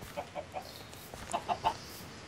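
Blocky chickens cluck in the video game Minecraft, played in the FTB Unleashed modpack: about six short, clipped clucks, the first three evenly spaced and faint, the last three louder and bunched close together, over a soft hiss.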